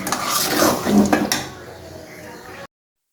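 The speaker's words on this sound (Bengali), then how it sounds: "নাড়া দিলে দেখেন কড়াটা কেমন নাড়াচাড়া করে" A metal spatula scraping and clanking against a wok while a fish curry cooks, with a faint sizzle underneath, busy for the first second and a half and then dying down to a soft background hiss.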